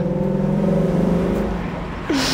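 A Ford Mustang 5.0 drives along with a steady low engine drone and tyre noise from inside the car, ending with a brief rising pitch as it accelerates.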